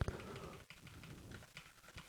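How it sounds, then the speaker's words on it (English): Soft, scattered clicks of arrow keys being tapped on a computer keyboard, a few quiet presses spread over a couple of seconds with no talking. "Let's seek around the frames by pressing the arrow buttons on your keyboard."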